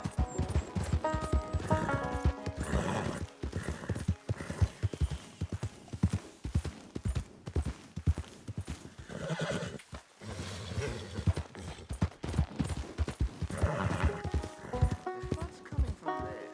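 A horse gallops with rapid clip-clopping hooves and neighs in Red Dead Redemption 2, loud and rhythmic, with whinnies breaking through near the start and end and a voice talking over parts.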